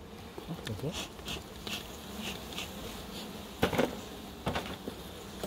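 Honey bees buzzing steadily around an open hive during a beekeeping hive inspection, a close, continuous droning swarm with scattered knocks and handling noises of frames, no clear talk.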